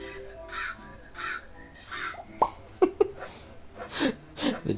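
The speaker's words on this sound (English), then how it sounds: "It really just took a soundbite of a crow." A crow caw sound effect from the Banjo-Kazooie video game repeats several times, rasping calls spaced about a second apart and fairly clear, followed by louder, clipped caws and breathy noises mixed in near the end.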